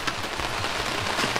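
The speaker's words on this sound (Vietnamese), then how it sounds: "Trời hơi mưa, mình đang che cái miếng tắc cao su trên đầu nè." Light, steady rain patters on a rubber tarp stretched overhead, a dense close-up crackle of drops with soft low thumps, no talking.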